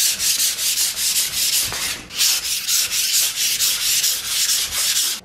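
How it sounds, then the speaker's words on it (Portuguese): Sandpaper rubbing back and forth over a burnt cement wall, a steady run of rhythmic abrasive strokes at close range with one brief pause, no talking. "E já lixei a parede toda"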